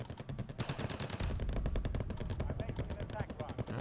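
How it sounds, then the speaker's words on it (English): Rockets fire in Wargame: Red Dragon as a rapid, dense barrage of booming bursts in quick rhythmic succession, loud and continuous throughout, with a voice talking underneath. "these rockets are just awesome"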